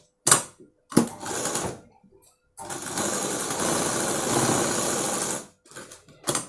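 Sewing machine stitching the back part of a blouse, a short burst, a second run, then a long steady whirring stretch of rapid needle chatter, with brief pauses between runs.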